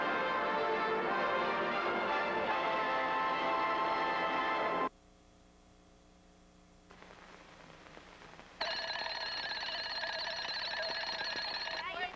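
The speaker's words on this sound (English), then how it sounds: "When the alarm clock rang at 3:30 in the afternoon" An alarm clock rings loudly in a continuous metallic trill, cuts off for a few seconds to a faint hum, then starts ringing again.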